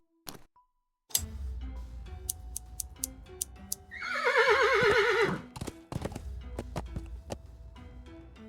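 A horse in the Willy Morgan game lets out a loud, bright whinny lasting about a second, framed by scattered hoof clip-clops and light ticking sounds in a quiet game scene.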